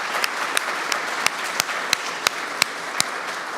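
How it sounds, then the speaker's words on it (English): An audience applauds the jury at the Falling Walls Lab Edmonton 2025 event: steady, full-room clapping holding level for several seconds, with a few louder individual claps standing out near the front. "Let's give them one more round of applause."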